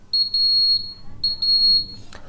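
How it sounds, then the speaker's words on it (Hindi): Buzzer of a homemade laser security alarm science project sounds two loud, shrill bursts, each a rapid pulsing beep tone lasting about a second, close by, followed by a brief clatter. "तो ये बजर बजेगा"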